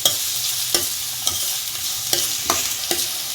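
Onions frying in hot oil over a medium gas flame hiss with a steady bright sizzle, broken every half second or so by sharp scrapes and clacks of stirring, close and clear with no voices.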